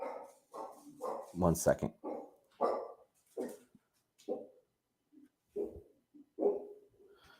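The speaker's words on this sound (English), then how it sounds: "Someone came to the door and my dog started barking." A dog barks in short repeated bursts at someone at the door, fairly close, with a person speaking briefly amid the barks.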